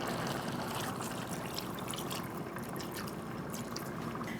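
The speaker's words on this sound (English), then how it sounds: "we're going to add a little bit more water to the fish soup and let it boil down a little bit" Plain water trickles and pours into a simmering tilapia fish soup, a steady close liquid stream with soft bubbling and dribbling spread evenly through the whole stretch.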